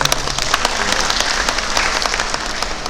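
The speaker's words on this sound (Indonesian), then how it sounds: "tepuk tangan untuk beliau." Audience applause at a Bali government event on waste handling in Badung Regency, a steady dense clapping from a crowd filling the room, loud and continuous throughout.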